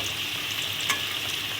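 Potato pieces frying in hot oil for a Bengali home meal, a steady close sizzle with one brief louder crackle partway through, and no voices.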